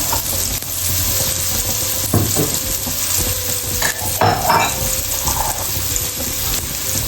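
Onion sautés in a pan for a beef curry, a loud close sizzle broken by scraping stirs and a few knocks of a utensil against the pan.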